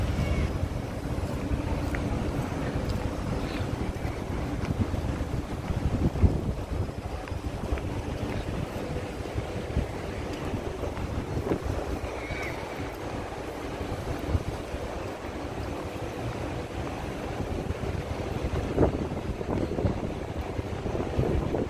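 Steady wind buffets the microphone for a long stretch, a constant rushing roar with faint outdoor sounds mixed in.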